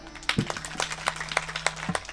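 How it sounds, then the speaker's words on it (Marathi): A kirtan audience claps in quick, irregular bursts of many hands, a short loud patter of applause heard close with no voices over it. "जोरात वाजवाना टाळ्या"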